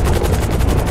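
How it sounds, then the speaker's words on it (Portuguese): Heavy gunfire crackles in the GTA RP video game, with rapid, dense bursts packed into a loud, brief stretch of steady pulsing shots. "é muito tiro"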